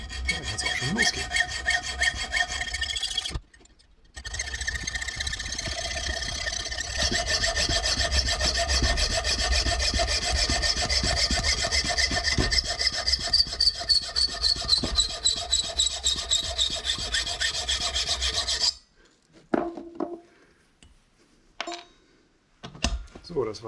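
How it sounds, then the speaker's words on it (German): A small hand saw rasps through steel in quick, steady back-and-forth strokes, close up, pausing briefly before stopping near the end. "Und dafür habe ich so eine kleine Handsäge."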